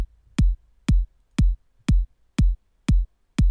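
Punchy electronic kick drum from the Big Kick plugin by Plugin Boutique, seven evenly spaced deep thumps with a short click on each attack, played solo at a steady tempo.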